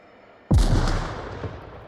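A frag grenade detonates in the VR shooter game Onward, one sudden loud boom followed by a long rumbling decay over about a second and a half, with no talk over it.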